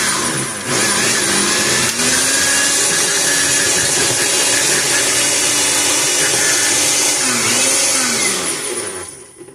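A kitchen blender runs loud and steady on strawberries and lemon juice for a frozen custard, a continuous close motor whine with shifting pitch that winds down at the very end.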